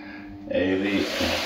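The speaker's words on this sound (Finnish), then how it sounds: "Vettä sen verran, että peittyy." Water poured in until it just covers the contents, a rushing, splashing pour starting partway through and running steadily to the end, close by, with some murmuring tones beneath.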